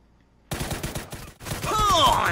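Video game gunfire starts abruptly after a silent half second, a dense run of rapid close shots with a brief gap, then continuing with whining, ricocheting tones layered over the blasts.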